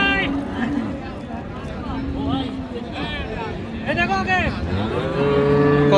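A beef cow at a rural cattle market in Dinajpur lets out several loud, drawn-out moos close by, while people haggle over prices around it.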